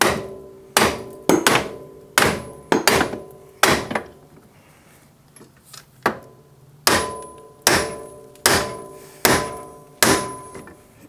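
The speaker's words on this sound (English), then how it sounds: "take our sledgehammer and tap the end" A sledgehammer taps the end of a CFMOTO steering rack in sharp, ringing metallic blows, a rapid cluster of about seven strikes, a pause, then five more evenly spaced hits, close and loud.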